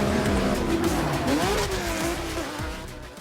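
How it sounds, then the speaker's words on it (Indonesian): Drift cars compete at the D1GP Southeast Asia event in Indonesia, engines revving hard over wavering tyre squeal and skidding, a loud, continuous blend of motor noise and screeching rubber. "kali ini saya akan mengajak Anda untuk melihat langsung kompetisi drift D1GP Southeast Asia"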